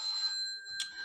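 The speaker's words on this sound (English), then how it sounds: "Sorry for the phone call." A telephone rings with steady electronic tones, a short burst of ringing ending in a brief clatter, fairly close and alone.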